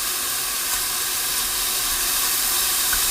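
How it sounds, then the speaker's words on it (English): Lamb curry sizzling in a Dutch oven, a steady loud hiss of steam and frying that holds without break, with faint crackles and no voices. "I can hear the sound that's coming from my Dutch oven"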